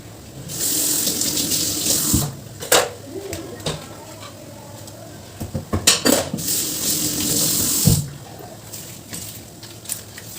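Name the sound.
cleaning something under a running water tap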